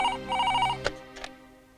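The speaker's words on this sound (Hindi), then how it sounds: "आपके लिए फोन।" An electronic telephone ringtone trills in two short repeated bursts, loud and close, followed by a couple of clicks, with no voices.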